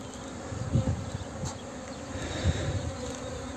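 Honey bees buzzing in a steady, dense hum around an open beehive during hive splitting, with a few louder swells as bees pass close, and no voices.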